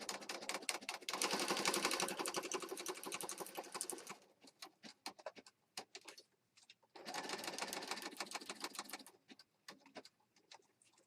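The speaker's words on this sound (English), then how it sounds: "So I'm going to start sewing right here." A sewing machine stitches through a paper journal page, running in two steady bursts of rapid needle chatter with a pause of scattered clicks between them, close and fairly loud with no talking.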